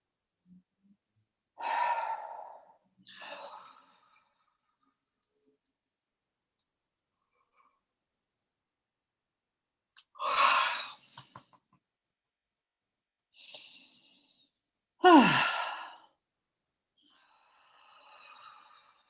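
Deep breaths taken during an emotional tapping exercise: a few separate, fairly soft breathy inhales and exhales with long quiet gaps between them, close to the microphone, and no talking.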